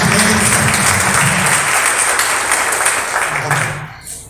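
A church congregation applauds during a Sunday sermon, a dense, loud and continuous wash of clapping that holds steady for several seconds before thinning slightly at the end.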